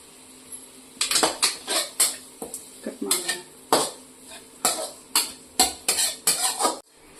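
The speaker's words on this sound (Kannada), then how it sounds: "ನಾವಿವಾಗ ಒಂಚೂರು ತುಪ್ಪ ಹಾಕ್ಕೊಂಡು ನಾವು ತೊಗೊಂಡಿರುವಂಥ ತೆಂಗಿನಕಾಯಿನ ಹುರ್ಕೊಳ್ಳೋಣ" Grated coconut is roasted in ghee in a pan. A spatula scrapes and clinks against the metal in a steady, rhythmic series of close, fairly loud strokes, with brief pauses and no talking.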